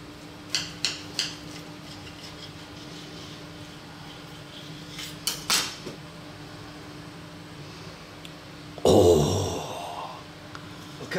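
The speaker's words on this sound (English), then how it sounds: "Let's cut them open." A knife cuts through tuna mayo sandwiches on a board, short clustered crunchy strokes in two bursts, followed by a louder rustling scrape near the end, with no talking.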